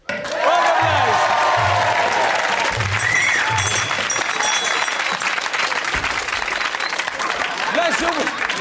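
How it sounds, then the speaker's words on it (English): A studio audience at a comedy variety show breaks into loud, sustained applause and cheering that fills the room from start to finish, with voices and music mixed in underneath. "let's have a big round of applause, a bit of appreciation"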